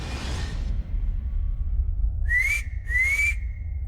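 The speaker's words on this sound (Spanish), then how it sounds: "Silbó el jefe, cuyos labios, recogidos como un culo de pollo, dieron a ese silbido una extraordinaria intensidad" A brief whoosh gives way to two loud whistles blown through pursed lips, each sliding upward and then holding, the second trailing off into a sustained tone over a low rumble.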